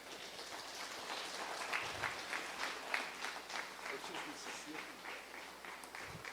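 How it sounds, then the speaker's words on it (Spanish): A church congregation applauds, a moderate, sustained patter of many hands clapping at a distance, with a voice occasionally breaking through. "¿Por qué no le damos un aplauso al Señor?"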